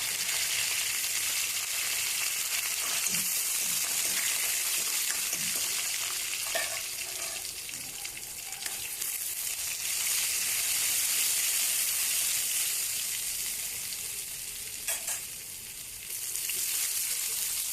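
Dried chilies and garlic hit hot oil for a tempering, giving a continuous bright sizzle and hiss with faint stirring clinks, steady and close throughout.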